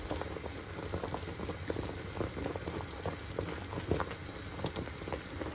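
Pot of foraged blackberry jam boiling hard, with a steady thick bubbling and popping close by, small wet bursts scattered irregularly through a continuous simmering hiss.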